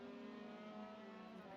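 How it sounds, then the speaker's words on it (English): A Formula 3 race car in a racing video game at the Hockenheim circuit, its engine a steady, loud, high-pitched droning roar with a fixed harmonic whine, heard alone. "Just listen to the roar of the engine when they flash by."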